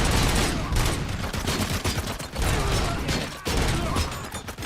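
Dense, loud gunfire from the RoboCop: Rogue City video game, with rapid overlapping shots forming a near-continuous fusillade that breaks briefly twice.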